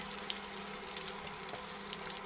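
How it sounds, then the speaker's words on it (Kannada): Onions frying in a pan with butter and a little oil, a steady, dense sizzle with crackling that holds evenly for a couple of seconds, fairly quiet and with no voices. "ಒಂದು ದೊಡ್ಡದಾಗಿ ಹೆಚ್ಚಿಟ್ಕೊಂಡಿರೋ ಈರುಳ್ಳಿ ಫ್ರೈ ಮಾಡ್ಕೊಳ್ಳೋಣ"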